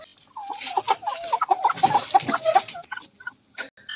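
A sick chick and chickens clucking, a close run of short repeated clucks and croaky calls that stops near the end.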